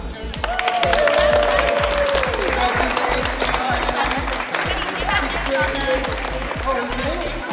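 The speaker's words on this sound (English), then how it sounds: "everybody clap." Audience at a youth under-14 AAA tournament award ceremony applauds steadily for several seconds, loud and close, with voices talking over the clapping throughout.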